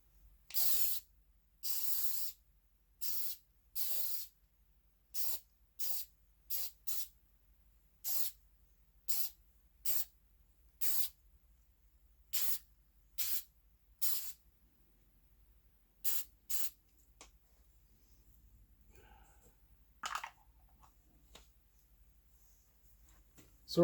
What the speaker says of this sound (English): So next you're supposed to spray on the penetrant.